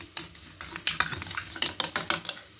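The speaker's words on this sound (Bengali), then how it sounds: "সয়া সস আর টমেটো সস দিয়ে খুব ভালো করে এটাকে মিশিয়ে নেব" Fried vegetables for semolina chowmein are mixed with soy and tomato sauce, a utensil scraping and clinking against the pan in brisk, regular strokes over a faint sizzle.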